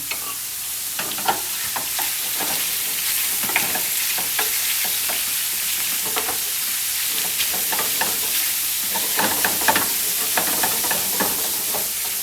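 Frying food, seasoned with garlic salt and paprika, being stirred and turned with a wooden spoon in a pan, a close steady sizzle broken by repeated soft scrapes and knocks of the spoon.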